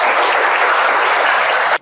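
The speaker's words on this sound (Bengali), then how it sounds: "ওদের জন্য জোরে একটা হাততালি হবে" A crowd at a school quiz competition claps loudly for the winners, a dense, sustained burst of applause that stops abruptly after about two seconds.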